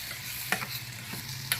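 Cranberry pickle is stirred in a thick-bottomed pan with a few distinct scraping strokes over a soft, quiet sizzle, close and without talk.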